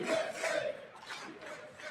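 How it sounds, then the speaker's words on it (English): Crowd at a State of the Union address roaring and chanting like a hockey crowd, a loud surge of massed voices that eases into a lower rumbling cheer. "You got that hockey crowd in there."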